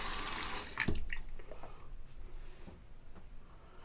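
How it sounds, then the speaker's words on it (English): Warm water runs from a tap to wet a vegan hard puck of Italian barbershop-scented shaving soap for face lathering, a steady close splashing stream that sputters and eases over a few seconds, with no voices. "What I'm going to do is put a little bit of warm water on that."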